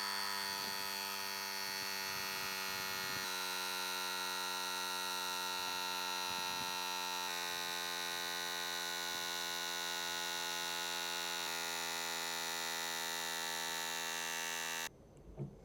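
A small portable electric air pump inflates an electric scooter tyre to 3.8 bar, giving a steady, loud droning whine that holds for about fifteen seconds with slight pitch steps, then cuts off abruptly.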